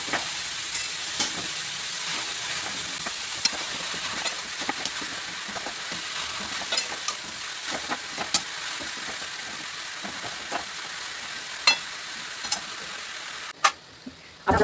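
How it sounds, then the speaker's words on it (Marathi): Half a kilo of finely sliced onion fries in a wok for chicken dum biryani, a steady close sizzle with scattered crackles and pops running throughout, no voices. "कढई ठेवूया, म्हणजे कांदा तवर भाजून होईल।"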